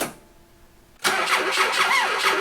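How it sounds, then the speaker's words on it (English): A BMW 2002 with no working clutch starts up: a second of near silence, then the engine abruptly catches and runs loudly and close with a rough, steady idle. "See if we can start her up."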